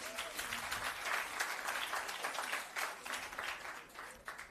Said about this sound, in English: Give the team a round of applause.